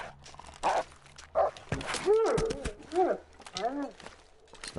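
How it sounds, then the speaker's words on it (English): Wolves in The Long Dark survival game give a few sharp barks and yelping calls, mid-distance, mixed with a person talking over them. "Willow hears the wolves barking through my headphones"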